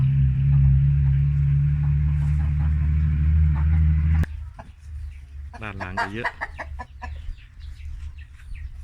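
Hens clucking on a chicken farm where young hens have begun laying, with a single rooster in the flock; a low steady hum fills the first half, then clucks and calls rise nearby while a person speaks briefly.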